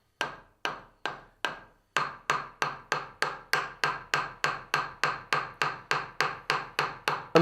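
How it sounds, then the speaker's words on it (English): Wooden mallet striking a carving chisel handle as it cuts into timber, a close run of about twenty sharp, evenly paced knocks, a few spaced out at first and then quicker and steady. "I'm hitting the handle quite firmly with the mallet."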